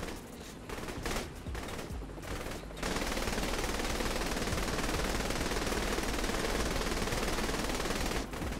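Machine gun fire in Saints Row: The Third comes in a few short stuttering bursts, then a loud, dense, unbroken volley lasts for several seconds before briefly dropping off.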